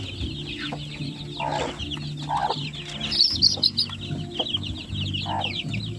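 A mother hen clucks softly and repeatedly close by, with chirps of chicks and other birds mixed in around her.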